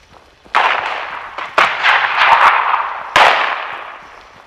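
Gunfire in the video game Fallout 76 during a raider faction fight, three sharp loud blasts each trailing into a long roaring decay, with no talk.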